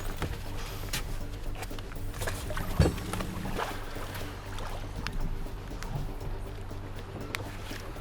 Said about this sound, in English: See that boat there, Hector?